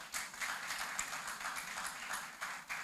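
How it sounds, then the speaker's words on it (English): A conference audience applauds after a presentation, with steady, moderately faint clapping from many hands that fills the room continuously and keeps no rhythm. "Can we give her a round of applause again"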